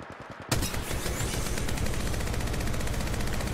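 Automatic weapon fire in the video game Apex Legends erupts after a brief quiet moment, then continues as dense, rapid, loud bursts of gunshots through the rest of the clip.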